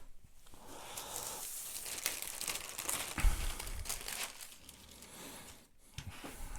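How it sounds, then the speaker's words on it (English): A sheet of baking parchment is crinkled and handled up close, giving a continuous dry rustling and crackling with a few sharper crunches and brief pauses. "Sheet of baking parchment."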